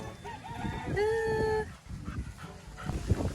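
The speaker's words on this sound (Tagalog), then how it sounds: "Parang ah, may bagong aso." A dog whimpers in a short high whine amid outdoor background noise, with a rooster-like call and scattered rustling around it.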